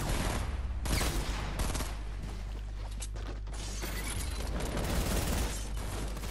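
Video game gunfire during a close fight, a dense stream of rapid mechanical shots and clatter running continuously at moderate loudness with no talk over it.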